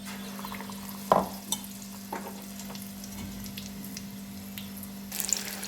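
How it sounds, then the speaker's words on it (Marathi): Besan-batter-coated vada balls fry in hot oil, a steady soft sizzle with a faint hum beneath and occasional clinks and stirring sounds, brighter bubbling toward the end. "असं बेसन पीठ लावून घ्यायचं आहे आणि ते तेलामध्ये सोडायचे आहे"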